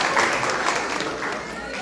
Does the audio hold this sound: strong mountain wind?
no